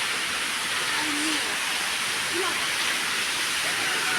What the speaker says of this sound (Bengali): ঝপ ঝপ ঝপ ঝপ ঝপ ঝপ ঝপ ঝপ জল পড়ছে